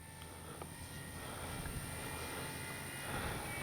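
A 3X Flex RV8 60E electric RC airplane hovers in 3D mode, its propeller giving a steady moderate whine at some distance, with a slight swell toward the end and no talk.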